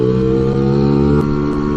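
Scooter engine running loud and close in a steady mid-pitched drone with a slight shift in tone as the clutch is let out, with no talking.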